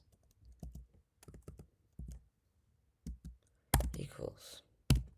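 Keystrokes on a computer keyboard while code is typed in a terminal, short bursts of close clicks separated by pauses, ending in a faster flurry of taps.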